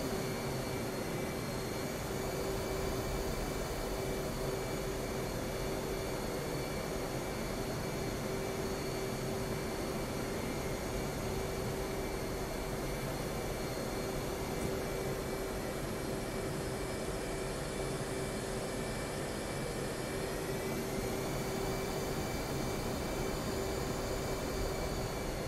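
A jet aircraft engine idles steadily in the flight simulator DCS World on an airfield in Syria, a continuous broadband roar with a sustained whine and tonal hum, loud and unchanging, with a slight pitch shift near the end.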